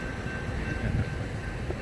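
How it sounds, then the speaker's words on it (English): A Union Pacific mixed eastbound freight train rolls past in Texas, a steady close-range rumble of wagons with low grinding noise and no horn, holding at a constant loudness throughout. "Bye, train."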